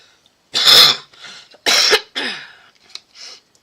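A few harsh coughs close by, two strong bursts followed by softer ones, with short silences between.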